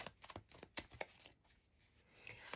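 Tarot cards being shuffled by hand, a quiet, close run of crisp riffling snaps and soft flicks in an irregular rhythm, with no talking.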